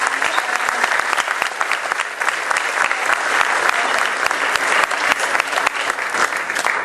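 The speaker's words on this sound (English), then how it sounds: "So everyone should give Jeff a round of applause." Steady, dense applause from a meeting audience at the inaugural gathering of the Oregon Growers Association, many hands clapping loudly and continuously throughout.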